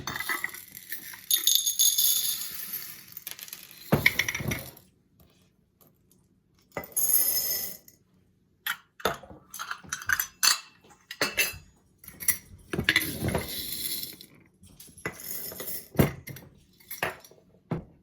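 Dry elbow macaroni rattles and clinks as it is poured into a jar for a homemade cheeseburger macaroni mix. Several close, bright bursts of pattering pasta come in uneven pours separated by short pauses, with no talking.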